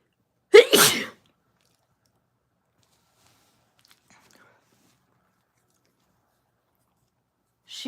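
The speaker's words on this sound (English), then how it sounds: "Oh, I have to sneeze." One sharp, loud sneeze from a person bursts out near the start, then near silence follows with only faint rustles.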